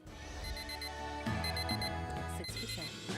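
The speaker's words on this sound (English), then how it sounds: "Alarm clock in your room does its best to keep you from missing your first day of school." An alarm clock in a bedroom in a zombie-apocalypse dating video game beeps in quick repeated clusters, loud and close, over layered background game music.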